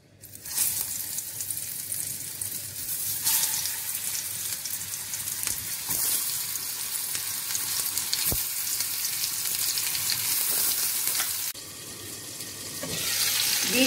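Stuffed ridge gourd dropped into hot mustard oil sizzles loudly and steadily throughout, a dense continuous frying hiss with a brief dip near the end before it swells again.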